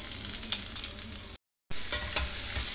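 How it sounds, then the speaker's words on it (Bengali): Onions go into hot oil seasoned with dried red chilli, clove, cardamom and sugar, frying with a steady crackling sizzle and spoon stirring, broken by a brief silent gap before the sizzle resumes. "এরপরে আমি এর মধ্যে দিচ্ছি পেঁয়াজ।"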